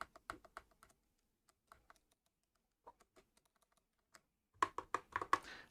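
Typing on an MSI GK320 entry-level hotswap mechanical gaming keyboard: scattered bursts of crisp, close keystrokes with pauses between, ending in a louder cluster of heavier key presses.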